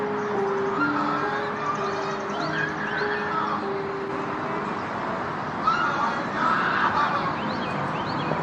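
Agitated birds squawking and calling in alarm outdoors, a mix of harsh caws and cries over steady background noise, moderately close.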